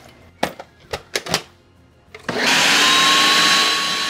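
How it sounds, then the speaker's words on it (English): A kitchen blender starts up on taco al pastor marinade after a few separate clunks and clicks, then roars into a loud, steady whirring grind that holds for the remaining seconds. "put it in a blender, and simply make a marinade."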